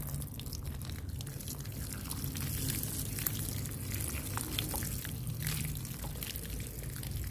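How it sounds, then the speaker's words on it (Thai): A flowering potted plant, a lucky Aglaonema, being watered from a sprinkler-rose watering can, with the leaves rinsed too: a steady, close splashing and trickling of water that runs unbroken and fairly loud. "เราก็จะใช้เป็นฝักบัวลดน้ำนะคะ อันนี้จะขอล้างใบเขาด้วยนะ"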